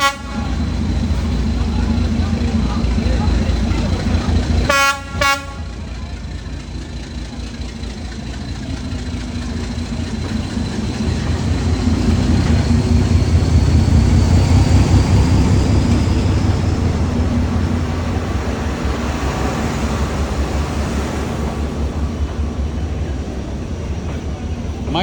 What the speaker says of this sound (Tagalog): May train, parang nasa riles ka ng train.